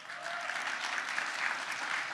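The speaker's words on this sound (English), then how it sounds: "Round of applause." Audience applause for a panel introduction at a New Orleans city event, a soft, even patter of clapping heard from a distance.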